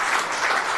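A city council meeting audience applauds the women's national soccer team, a brief burst of dense clapping heard for under a second.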